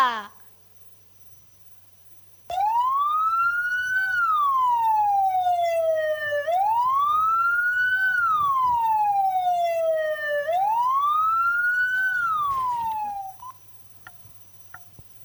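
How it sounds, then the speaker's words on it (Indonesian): An ambulance siren wails loudly, rising and falling in three slow sweeping cycles, close by, then cuts off. "Itu ambulan membawa jenazah"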